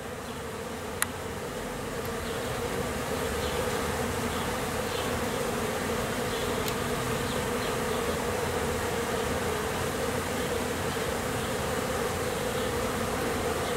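A swarm of honey bees buzzes around a new hive set a few feet from the old one. The drone is dense and steady, holds close and loud for the whole stretch, and no voices are heard.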